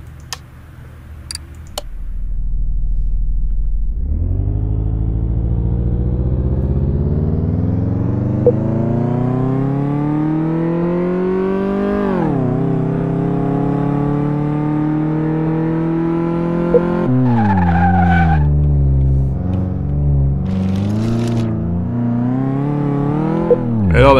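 A car in the Car Mechanic Simulator game, driven on a circuit, roars as its engine climbs steadily through long revving pulls, with gear shifts and abrupt dips, loud and close, with brief clicks at the start.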